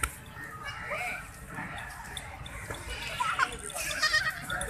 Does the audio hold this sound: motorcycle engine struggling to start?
no